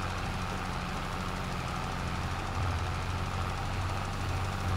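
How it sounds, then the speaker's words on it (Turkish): Tractor engine in the video game Farming Simulator 22 drones steadily under heavy load, a low continuous rumble that swells slightly partway through, moderately loud with no talking. "iyi zorlanıyor ha traktör"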